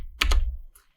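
Quick keystrokes on a computer keyboard: two or three close, crisp clicks in rapid succession, then a faint final tap, with no talking.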